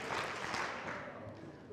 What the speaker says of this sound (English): If you can hear my voice now, clap twice.